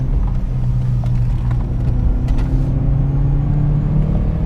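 An Opel Astra H 1.6 LPG GTC coupe accelerates under load, a loud steady engine drone with a rising hum and road rumble heard from inside the car.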